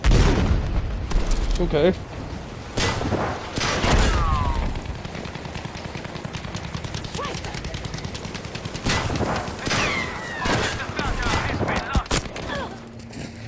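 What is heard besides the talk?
hand grenade explosion and gunfire in video game Battlefield V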